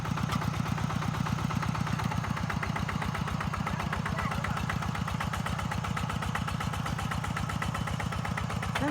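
A farm vehicle engine runs steadily in first gear during rice-field preparation, a close, even chugging idle with regular low pulses throughout and no pause.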